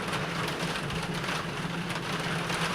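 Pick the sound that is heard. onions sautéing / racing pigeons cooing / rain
rain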